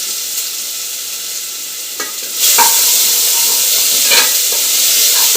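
Crushed garlic and ginger hit hot oil for a beef fry and set off a loud, steady sizzle. A few sharp stirring scrapes cut through the hiss, which swells partway through and then holds strong, with no talking.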